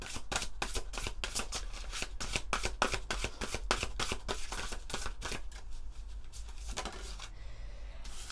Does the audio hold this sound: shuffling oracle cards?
yes